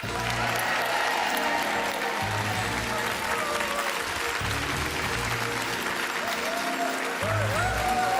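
Studio audience on a French midday television quiz show breaks into sustained applause welcoming the returning champion, steady and dense for the full stretch with a host's voice faintly audible over it.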